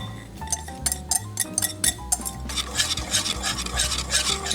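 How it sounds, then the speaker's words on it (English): A whisk scrapes and clinks steadily against a pot of lemon meringue pie filling cooking on the stove, with soft rhythmic stirring strokes, close and clear over quiet background music. "You wanna stay right here with it, whisking it, or it will burn on the bottom."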